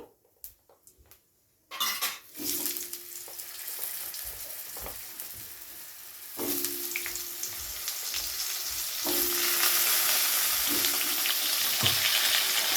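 Potato pieces fry lightly in oil with cumin seeds in a pan. After a few quiet clicks, a loud sizzle bursts in and builds into steady frying, with repeated metallic scrapes and clinks of a spatula stirring.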